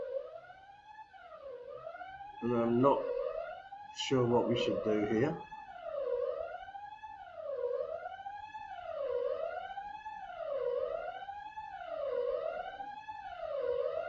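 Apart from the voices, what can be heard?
building fire alarm going off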